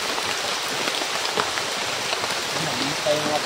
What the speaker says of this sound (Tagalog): Para silong muna kami kasi lakas ng ulan.